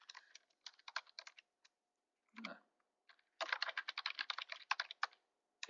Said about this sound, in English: I will go ahead and type it, then I'll explain it